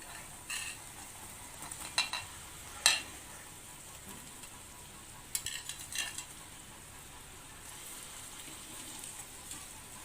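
Turmeric-coated potato pieces tossed into a tempering of onion and chili, giving a faint steady sizzle with a few sharp scrapes and clinks of a spoon stirring the pan.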